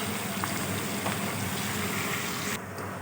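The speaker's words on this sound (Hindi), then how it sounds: "अदरक लहसुन और हरी मिर्चों का पेस्ट ये डाल के इसे थोड़ी देर फ्राई करूँगी" Ginger, garlic and green chili paste sizzling in a pan of hot oil with whole red chilies, salt and turmeric, a steady dense crackling hiss that holds level throughout.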